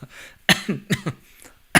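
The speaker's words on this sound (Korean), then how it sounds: "기침이 나와." A man coughs sharply several times in quick bursts, with short raspy throat sounds between the louder hacks, close and alone.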